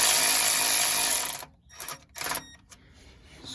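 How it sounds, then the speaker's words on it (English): A ratchet tightens the transmission pan bolts on a Ford Expedition, first with a loud continuous whirring run, then with several short choppy mechanical bursts and clicks, close by with no talking. "I'm gonna go ahead and tighten one on this side, then go back again to get the other side."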